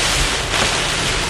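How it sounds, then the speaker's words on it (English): Gusty wind and heavy rain during a Florida thunderstorm roar as a loud broadband rush, with wind buffeting the microphone and no voices. "Gusty winds bringing the rain"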